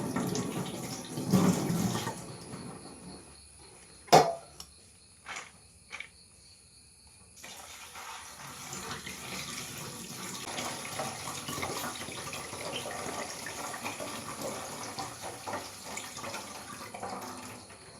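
Chopped beans are rinsed under a running kitchen tap in a home kitchen: a steady, close wash of water that flows after a few short clinks and splashes, with no talking.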